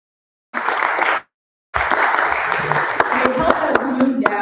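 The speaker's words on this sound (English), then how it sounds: "So give yourselves also a round of applause on that one." Two bursts of audience applause at a church vision discernment session, a short round, a pause, then longer sustained clapping with talk running underneath.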